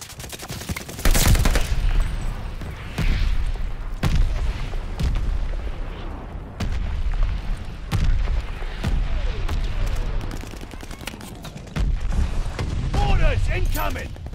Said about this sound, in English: Heads up. Allied mortar fire coming.